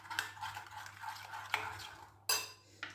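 Cream is mixed in a bowl for a fruit salad: quiet, irregular spoon scrapes and light taps against the bowl, with a sharper clink near the end and brief pauses between strokes.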